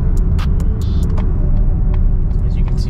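A 2020 Mazda CX-30 in sport mode holds its RPMs with a steady, loud engine drone and low rumble inside the cabin, with a few small clicks and rattles over it.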